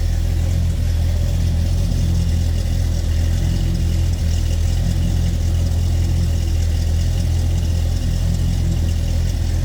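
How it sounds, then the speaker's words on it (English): A 1969 Chevrolet El Camino's 350 small-block Chevy V8 idles steadily and loudly with a deep, throbbing rumble that stays even throughout. "That 350 small block Chev sounding good."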